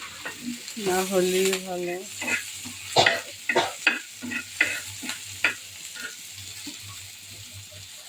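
Pabda fish and onion frying in a pan while being stirred, with intermittent scraping stirs and a low sizzle; a voice speaks briefly near the start.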